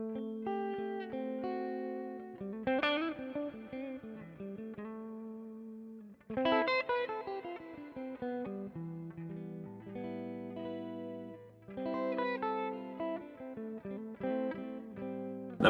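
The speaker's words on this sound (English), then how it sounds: "because we're using only Boss pedals, the reverb is coming courtesy of the RV6" An electric guitar plays a Steve Vai-style tone through a Boss RV6 reverb pedal, with sustained, distorted notes and phrases that ring out into a spacious, lingering reverb tail between bursts, with no speech.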